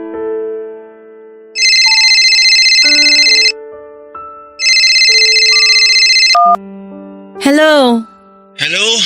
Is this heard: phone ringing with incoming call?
yes